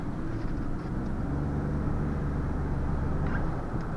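Inside a 2017 Ford Expedition Limited, the engine drones in a steady, low cabin hum as it downshifts in manual mode, with no distinct rev change and no talking.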